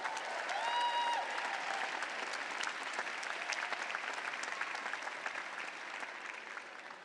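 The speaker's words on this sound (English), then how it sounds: "Give our staff who spent all year coordinating this a wonderful round of applause" At a graduate school commencement ceremony, a large audience applauds the staff with dense, sustained clapping that starts loud and slowly tapers, a faint brief whistle near the start.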